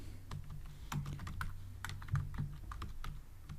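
Someone types code on a computer keyboard, with quiet, close, irregular key clicks and taps in short bursts over a low steady hum, no voices.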